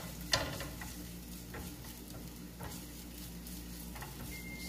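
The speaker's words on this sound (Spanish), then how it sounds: "Sofreímos un poco." Shallots or red onion sauté in a hot pan, a soft, steady sizzle with a sharp clink near the start and faint stirring scrapes, quiet and close, with no talk.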